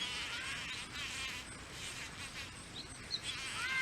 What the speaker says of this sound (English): Maybe I'm bugging a bee.